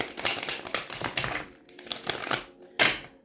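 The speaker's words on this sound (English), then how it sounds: "One more butterfly shuffle" Stiff tarot cards are riffled in a butterfly shuffle, giving bursts of loud close crackling flutter with short pauses and a final sharp riffle, with no talk.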